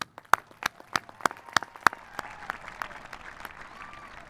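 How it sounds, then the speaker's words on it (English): Scattered, fairly faint hand claps at a university commencement for the Cal State Fullerton class of 2017. Separate sharp claps are spaced close together and thin out over a few seconds, with no voices over them. "Let us give a loud round of applause to the class of"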